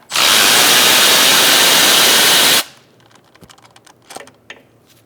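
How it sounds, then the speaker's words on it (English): A power tool with a 15mm socket spins loose the brake caliper bolts on a 1998-2011 Ford Ranger, a loud steady whir lasting a couple of seconds, followed by quiet metallic clinks and taps of handling parts. "15mm socket, you're going to take out the caliper bolts."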